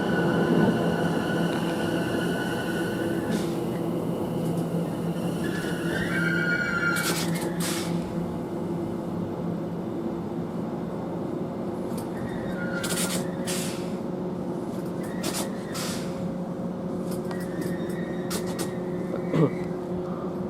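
A train pulls into Romford station, its low engine drone and rumble steady over the platform while brakes hiss and squeal in several sharp bursts as it slows to a stop.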